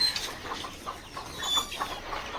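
Desi hens sitting on eggs in a brooding setup on a poultry farm cluck softly, with scattered short calls spread over a quiet background.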